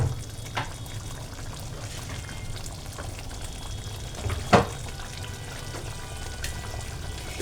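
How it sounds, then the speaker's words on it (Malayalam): Ghee going into a pan of palak paneer, a low bubbling simmer with a soft pour and a short clink of a spoon near the middle, no one talking. "ഇനി നമുക്ക് അതിനകത്തോട്ട് ഒരു ശകലം നെയ്യിടാം."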